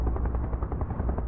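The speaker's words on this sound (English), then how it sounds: "Chopper inbound." A helicopter arrives in a Final Fantasy VII: Advent Children Abridged scene. The rotor chops steadily and loudly throughout, continuous and close, with no voices.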